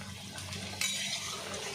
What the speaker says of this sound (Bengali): জলটা দিলাম যাতে পুরো এঁচড় আর আলুর মধ্যে